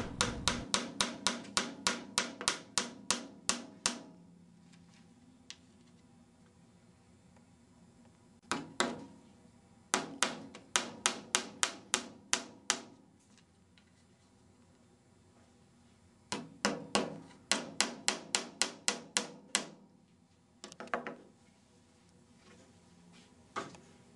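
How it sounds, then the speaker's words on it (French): Nails are hammered into a wooden moulding on a board in bursts of rapid, sharp taps, each run of blows separated by short pauses, close and clear with no speech. "Clouez momentanément la moulure."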